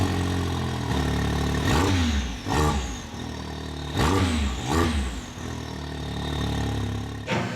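A Can-Am Maverick X3 side-by-side engine runs loud and close, with a steady idle broken by several sharp revs that rise and fall in quick bursts.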